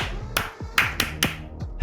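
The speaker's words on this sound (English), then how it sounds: "He's clapping in the house." Several sharp hand claps ring out unevenly, about four or five loud, close smacks with brief gaps between them, during a Halo esports championship final stream.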